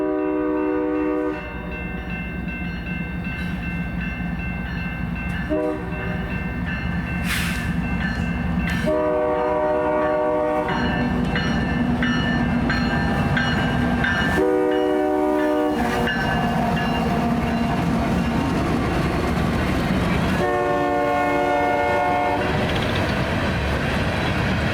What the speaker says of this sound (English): It's an empty coal train bound for the Powder River Basin.